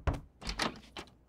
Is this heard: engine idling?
no